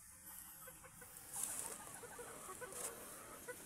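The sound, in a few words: white kelso chicken clucking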